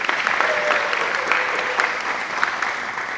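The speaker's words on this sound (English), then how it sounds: "Round of applause, please." Event guests applaud the sponsors at a gala, a dense, lively patter of many hands with a few sharp claps standing out, sustained evenly throughout.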